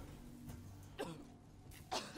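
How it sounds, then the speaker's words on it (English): A character in the Alien Isolation game coughs from dust, with two short harsh bursts standing out over a low ambient game hum. "Stop coughing."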